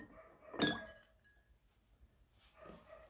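A raw egg placed into a glass of water, heard as one faint close clink against the glass followed by quiet handling.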